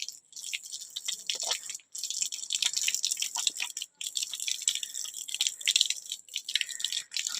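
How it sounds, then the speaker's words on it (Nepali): Rainwater dripping and splattering during monsoon season at a home, a continuous patter of drips and rattling splashes, fairly close, with brief pauses and no talking. "के भयो फेरि पानी खोल्यो क्या हौ।"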